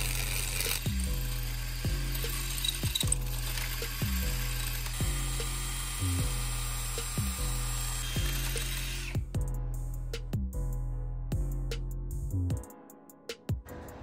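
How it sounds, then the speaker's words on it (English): A 1/2-inch drill bit is run all the way through a workpiece on a Nissan B13 SR20 project, with a repetitive ratcheting, grinding whir that pulses roughly twice a second up close and loud, then stops and winds down near the end. "you're gonna follow it up with the 1/2" drill bit, and again, drill all the way through."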